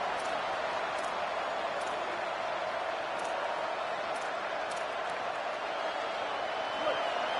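A home crowd roars steadily through a college football game between Ole Miss and UCLA as the defense faces third down, a dense, continuous wash of stadium noise that holds at the same level throughout.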